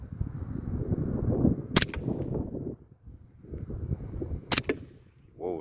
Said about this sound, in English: Whoa, that's a loud bang.